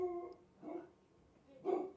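A pet dog howls indoors in two drawn-out, wavering bursts with a quieter whine between them, fairly close and alone with no talk.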